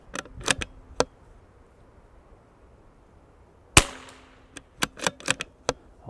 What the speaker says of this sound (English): we're going to shoot the CCI standard velocity